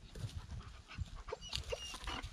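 A dog pants rapidly with soft whimpers, close by outdoors near a hunting hide in the woods, with some light rustling and shuffling around it.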